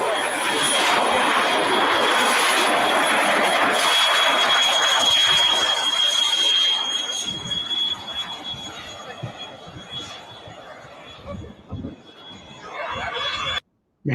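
A radio-controlled model airplane flies outdoors with mountains nearby, its engine a loud, high whine up close that fades and wavers as it pulls farther away before cutting off.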